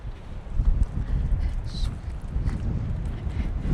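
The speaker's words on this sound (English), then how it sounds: "It is very windy." Strong wind blowing outdoors on a hill by a historic general store, a steady low rumble of gusts buffeting the microphone throughout, with faint voices in the background.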